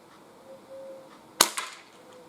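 A Crosman 2240 CO2 air pistol fires a pellet outdoors: one sharp, loud crack, then a quick fainter report, with quiet ambience around it.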